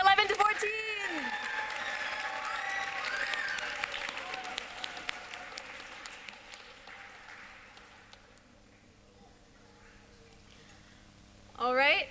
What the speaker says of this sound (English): Big round of applause for all of our 11 to 14.